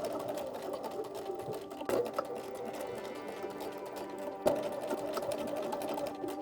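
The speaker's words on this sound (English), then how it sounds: "take this to the sewing machine and sew all the way around" A sewing machine runs steadily, stitching around a ballgown ruffle seam with a rapid mechanical whir and rhythmic stitching, briefly pausing and restarting, close and clear with no talking.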